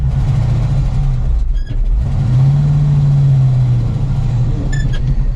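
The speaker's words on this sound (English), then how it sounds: "Parallel parking in a grain truck is kind of what we're doing." An old Ford grain truck with a 370 gas engine revs and drops back while maneuvering in snow, a loud, close engine drone that dips briefly and then rises and holds before easing again.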